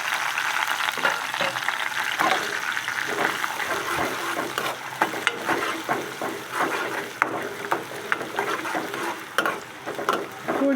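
Onions with cumin and curry leaves frying in a pan, a loud, dense hiss of hot oil with occasional stirring knocks and scrapes, heard close and without speech.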